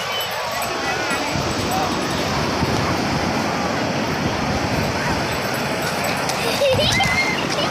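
Sea waves wash ashore at Puri beach in a continuous broad surf roar with wind buffeting the microphone, while voices talk over the water.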